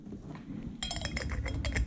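Elderflower syrup goes into a glass, with soft handling sounds giving way to a quick run of light glassy clinks and taps, quiet and close, with no talking.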